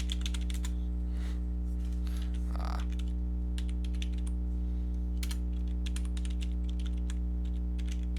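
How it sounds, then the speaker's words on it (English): Keys clatter on a computer keyboard in quick irregular runs, close to the microphone, over a steady mains-like hum, with one brief muffled thump midway and no talking. "Let me finish typing this out."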